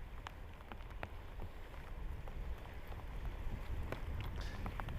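Steady rain falls over the Falcon 9 launch pad at Cape Canaveral, Florida, a constant broadband hiss with scattered drop ticks and a light wind rumble, heard alone without voices.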